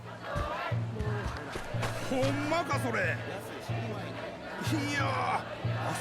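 Murmuring crowd in the Like A Dragon: Ishin video game, a steady hubbub of indistinct voices with occasional whoops, running continuously under game music with a repeating low beat.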